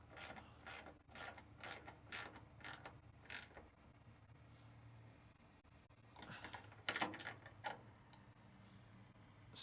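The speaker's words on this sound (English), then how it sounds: "13 millimeter wrench or socket, whatever is your tool of choice, and tighten this up." A bolt being tightened with a 13 mm ratchet wrench or socket while fitting a hood strut on a Mercedes-Benz Sprinter van, a quick series of close, crisp ratcheting clicks, a pause, then another burst.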